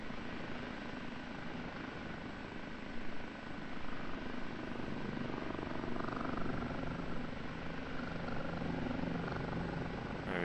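Rotor and engine drone of a helicopter hover-taxiing at Kandahar Airfield in the DCS flight simulator, a steady, continuous whir that holds constant throughout with no one speaking.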